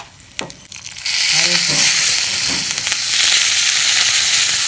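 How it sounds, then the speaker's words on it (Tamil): Mustard seeds, urad dal, cumin, garlic, fenugreek powder and a dried red chilli hit hot oil for a sambar tempering, erupting into a loud, sustained sizzle with popping crackles after a brief quieter start. "எண்ணெய் ஊற்றியாச்சு. கடுகு கொஞ்சம் போட்டாச்சு. உளுந்தம்பருப்பு, ஜீரகம், பூண்டு, வெந்தய பவுட்ரு, ஒரு காஞ்ச மிளகாய்"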